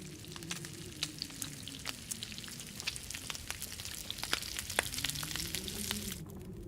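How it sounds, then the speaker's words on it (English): Venison sizzles over a campfire in the survival game The Long Dark, a soft, steady frying crackle with scattered pops, faint and continuous throughout. "We're going to cook this venison too."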